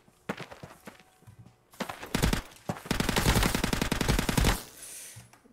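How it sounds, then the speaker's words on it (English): Constant automatic gunfire in a video game: a few scattered shots first, then a long dense burst of rapid rounds lasting nearly two seconds, loud and close before cutting off. "Really don't like that constant firing because I'm in the background though"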